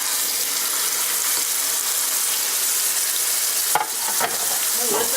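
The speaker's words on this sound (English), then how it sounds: "Oh, listen to that sizzle." Loud, steady sizzling fills the air as meat sears in a hot skillet, with a few clanks and scrapes near the end.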